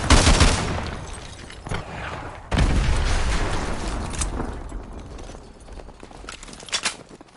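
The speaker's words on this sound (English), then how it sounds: "Those explosions are going to attract a lot of attention." Explosions and gunfire in Call of Duty: Modern Warfare 2 Remastered, with a loud blast at the start, another heavy boom midway, and scattered shots and rumbling battle noise that gradually fade.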